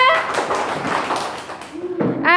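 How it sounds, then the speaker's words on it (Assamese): Children clap their hands for Amina during a classroom cutting game, a dense, steady patter of many small palms close by. A voice rises briefly near the end. "আমিনাৰ কাৰণে হাত তালি দিয়া।"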